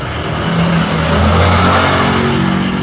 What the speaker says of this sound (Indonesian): apabila ada suara lalu lalang sepeda motor dan mobil